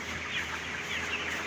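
Chickens cluck softly in a backyard coop during hot weather, a faint, continuous murmur of fowl without speech.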